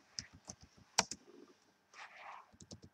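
Soft, irregular tapping on a computer keyboard, with scattered keystrokes and a brief pause, then a short muffled shuffle before a few more taps, heard close and faint.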